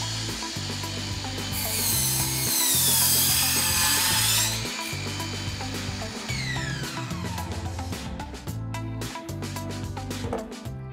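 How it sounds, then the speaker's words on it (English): A Ryobi 18V ONE+ cordless 190mm compound sliding mitre saw whines at full speed. Its pitch sweeps and strains as the blade cuts through wood, and the motor hum keeps pulsing loud and close, with no speech. "start the motor, and let the saw run to full speed before you cut through the wood."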